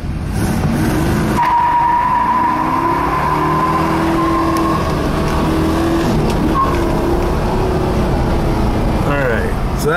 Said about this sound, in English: So let's take it through its gears here.